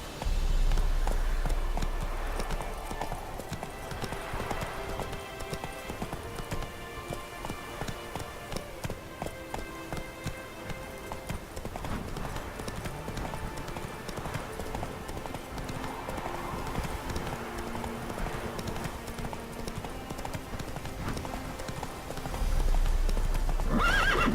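Roach, a horse in The Witcher 3, gallops with quick rhythmic hoofbeats that continue throughout, along with snorts and a whinny. A low rumble swells at the start and again near the end.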